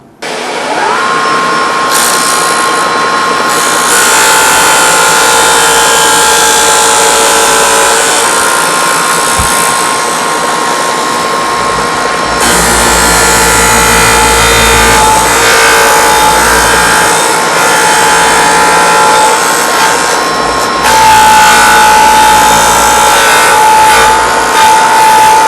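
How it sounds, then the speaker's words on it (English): A disc sander grinds the edge of a wooden cutting board, the board turned against the disc to shape a circle; a loud, steady whine and rasp runs continuously, close by, with no talk. "We'll push it up against the disc sander and we'll turn it"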